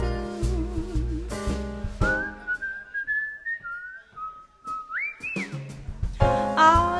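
Whistled little tune in a jazz song, a clear melodic human whistle gliding between notes over sparse band accompaniment, which swells in with piano and horns around it.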